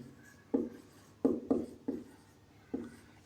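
Chalk or marker strokes on a classroom board during a class 12 physics lesson, five short scratchy taps at uneven intervals, close and fairly faint, with no talking.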